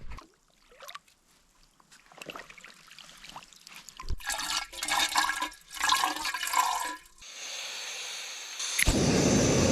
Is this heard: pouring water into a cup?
yes